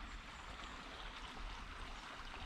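Stream water flows steadily under a bridge, a continuous broadband rushing and gurgling close by with no voices.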